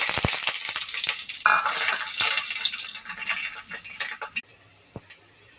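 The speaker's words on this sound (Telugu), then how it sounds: "తర్వాత పెనం పెట్టుకొని కొద్దిగా ఆయిల్ వేసుకోవాలి. దీంట్లో పల్లీలు కొద్దిగా వేసుకోవాలి ఫ్రెండ్స్." Peanuts crackle and sizzle in hot oil in a flat pan, a dense busy frying hiss with sharp pops and clicks that thins out toward the end, no voices over it.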